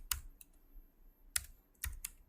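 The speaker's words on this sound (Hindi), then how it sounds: "यहाँ पे मैं लिखता हूँ डिप्लोमा" Typing on a computer keyboard during a web coding tutorial, with a few sparse, crisp key clicks close by and short pauses between them, and no voice.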